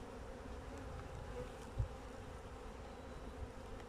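Honey bees buzz steadily inside an opened hive during a pre-winter inspection, a dense continuous hum close by with one brief soft knock partway through.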